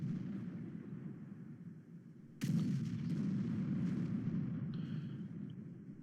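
A tank cannon fires once in the World of Tanks video game, a sudden loud boom that rolls into a sustained low rumble over a steady background drone.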